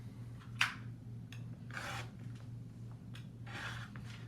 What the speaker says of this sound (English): Now I'm cutting on the right side of the fabric.